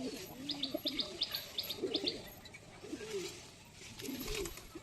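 Several high flyer pigeons coo in soft, low rolling calls, close by, overlapped by a quick run of bright chirps early on, with light background noise throughout.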